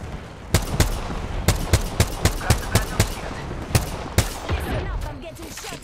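A knuckle cluster weapon firing in a video game, a string of about a dozen sharp, evenly spaced loud shots over steady battlefield ambience.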